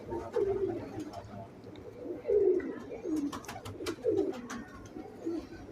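Pigeons kept by a breeder coo in soft, repeated throaty phrases, several calls spaced over a few seconds, close by and fairly quiet.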